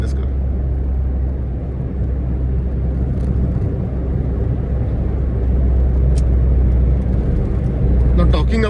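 A 22-year-old Tata Indica petrol hatchback drives through Mumbai, its engine giving a steady, close, low rumble that holds at an even loudness with little change throughout.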